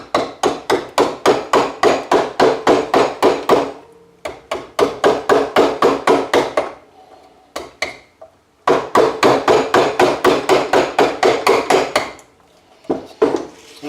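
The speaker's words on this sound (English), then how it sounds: "if you use the mallet, it's a lot easier on the arms and hands" A mallet drives a chisel into wood while a model boat hull is carved, giving sharp, evenly spaced knocks in fast runs of about a dozen strikes, separated by short pauses.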